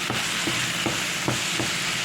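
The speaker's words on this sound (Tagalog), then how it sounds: "Haluin ko lang din guys." Beef kaldereta being stirred in a pan, with soft scraping strokes repeating roughly every half second over a steady low simmering sizzle, close and alone with no talk.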